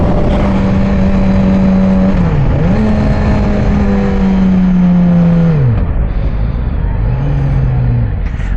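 A 2009 Yamaha R6 motorcycle engine held near full throttle, a loud sustained high-pitched whine that climbs, dips and rises again through the revs, running continuously up close with a rough roar underneath.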